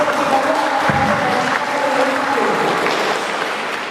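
An audience at a school student council candidate Q&A breaks into loud applause, the clapping swelling quickly and then tapering off over a few seconds.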